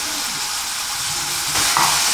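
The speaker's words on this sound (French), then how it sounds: "Et on coupe ça en petits cubes et on rajoute dans la casserole." Cubes of aubergine dropped into a hot saucepan, giving a steady loud sizzle and hiss of frying that swells slightly near the end, with no voices.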